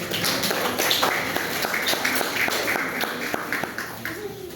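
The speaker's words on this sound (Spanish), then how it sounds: "Un aplauso para sus compañeros." Classroom applause for student presenters after a cardiology presentation, steady scattered clapping throughout with sharp hand claps over background chatter and voices.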